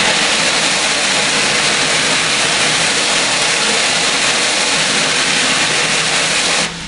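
Water sprayed onto a screen printing screen to wash out the emulsion stencil, a steady loud hiss that continues unbroken until it cuts off just before the end.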